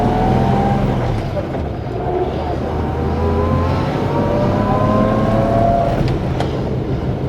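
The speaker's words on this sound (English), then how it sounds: "So I'm quite happy to change down to second gear when I'm braking the car." Small vintage three-speed car driven on the road while braking and changing down to second gear, engine note shifting with steady low rumble and rising tonal whine throughout, close and continuous.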